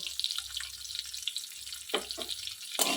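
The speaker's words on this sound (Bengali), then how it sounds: "ফোড়নটা ভাজা হয়ে গেছে এখন আমি এতে আলুগুলো দিয়ে দেব" Potatoes go into hot spice tempering with salt and turmeric, a steady close sizzle of frying with a few sharper bursts and stirring scrapes, no talking.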